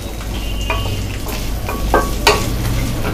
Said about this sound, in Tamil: டிரான்ஸ்பரண்ட் ஆகிற வரைக்கும் நம்ம வதக்கிக்கலாம்.